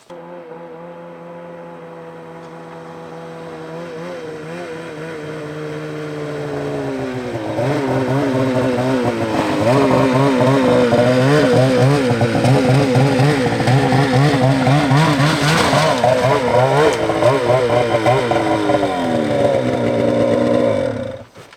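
A snowmobile engine runs continuously nearby, its tone climbing and wavering in pitch as the revs rise and stay high.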